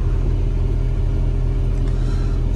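A truck engine rumbles steadily and loudly up close as it is revved down, a continuous low drone with no other sounds over it.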